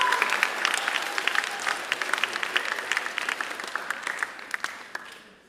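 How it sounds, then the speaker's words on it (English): A school audience claps through a special recognition ceremony at the Canterbury School of Florida, with sustained dense applause that holds steady and then thins toward the end. "let's give them a round of applause"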